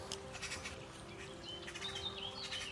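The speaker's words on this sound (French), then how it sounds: "On les appelle pas les pies bavardes pour rien." Rapid, harsh magpie chatter with scattered chirps against a steady outdoor background hum, moderately close and continuous throughout.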